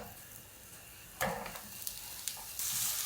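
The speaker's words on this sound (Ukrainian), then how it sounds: "Поки цибулька смажиться" Onion and garlic sizzle and crackle in hot sunflower oil, with a few stirring scrapes and bursts of spattering, close by with no talking.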